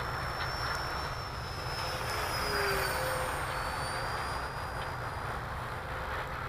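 Freewing Rebel V2 radio-controlled jet with a 70 mm ducted fan flying overhead, a steady distant whooshing whine with a faint high tone, continuous and alone.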